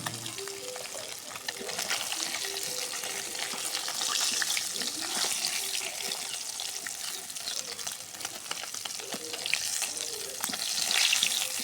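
Fish frying in oil in a pan make a steady, moderately loud hiss and crackle with occasional sputters and light scraping, running continuously without any talking over it.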